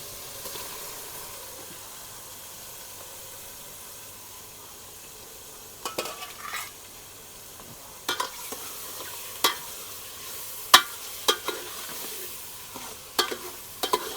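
Shrimp with onions fry and hiss softly in a pan for a crab and prawn mix dish, with a steady low sizzle broken by occasional sharp scrapes and knocks of stirring toward the end.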